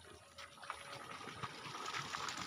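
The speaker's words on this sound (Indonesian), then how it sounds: "Dan airnya juga ini gede ya teman-teman. Airnya ada gede." Water flows strongly through rice field irrigation, a steady gushing rush with bubbling splashes. It runs unbroken, fairly faint and alone.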